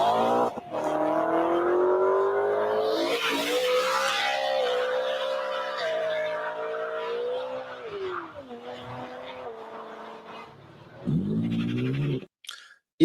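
A BMW E92 M3 leaves a car meet, its engine note climbing and falling through the gears, with a short burst of tire squeal early on before the car fades into the distance.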